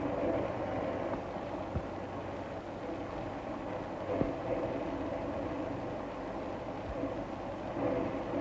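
A moving train interior gives off a steady low rumble and rattle, with a few faint clicks from the rails in the background.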